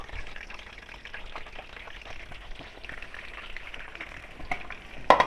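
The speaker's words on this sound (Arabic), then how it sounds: "نجيب زيت يكون غزير، مش هتفرق بقى في طاسه تيفال او غير التيفال، المهم يكون الزيت بتاعنا كتير عشان الحمام بتاعنا يتحمر كويس" Stuffed pigeons frying in plenty of hot oil in a pan, a steady soft crackling sizzle throughout with a few louder pops near the end.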